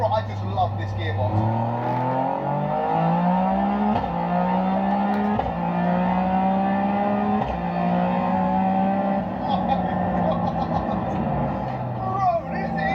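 A small three-cylinder car engine revs hard through a run of rising gear pulls, with repeated climbing tones broken by shift dips, loud and close throughout, with voices talking over it.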